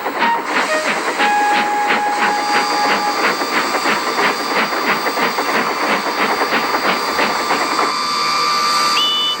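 A steam locomotive puffs in a fast, steady rhythm of loud chuffs, with sustained whistle-like tones ringing over the top throughout.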